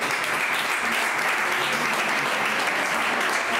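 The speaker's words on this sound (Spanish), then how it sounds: "Un fuerte aplauso." Sustained applause from a crowd gathered for a town festival ceremony handing out neckerchiefs in Marcilla, a steady dense clatter of many hands that holds evenly throughout with no voices standing out.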